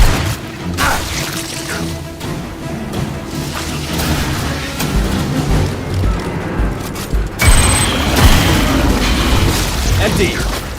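A grenade detonates in Aliens: Fireteam Elite, a loud boom amid bursts of gunfire and combat clatter, with a voice calling out.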